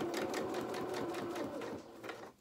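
A domestic sewing machine stitches a narrow quarter-inch seam on a small fabric dressing gown, running at a steady fast whir with rapid needle pulses, close and alone, then slowing to a stop.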